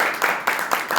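A church congregation claps hands together in praise, a dense burst of rhythmic clapping with pulses roughly every quarter second, loud and close with no talking.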